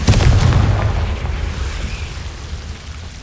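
A loud fiery blast from the Confringo spell in the video game Hogwarts Legacy hits at once, then fades into a long low rumble with faint crackling.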